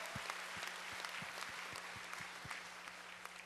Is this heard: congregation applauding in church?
yes